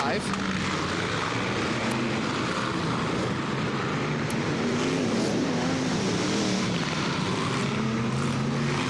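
Spedeworth F1 stock cars racing around an oval track in the 1970s, slower cars sliding through a turn as the leader starts up the straight; a steady, loud engine roar and broadband crowd-and-track noise run throughout with commentary over it.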